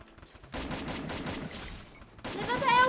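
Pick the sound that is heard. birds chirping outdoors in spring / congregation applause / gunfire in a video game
gunfire in a video game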